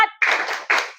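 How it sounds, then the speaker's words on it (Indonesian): Children at a religious study gathering do a spirit clap: a short vocal lead-in, then two sharp, loud bursts of group clapping in quick succession. "tepuk semangat"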